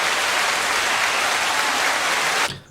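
Crowd applause at a gathering, a steady, loud wash of clapping from many hands that carries on evenly, then cuts off abruptly near the end.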